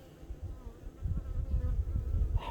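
Honeybees buzzing steadily during a beehive inspection, a dense low hum that swells louder partway through and continues without talk.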